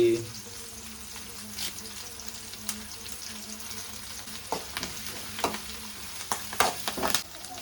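Thinly sliced onions with a little curry leaf sizzle steadily in hot oil for a village-style beans and potato curry, a soft continuous fry with occasional stirring clicks and scrapes toward the end.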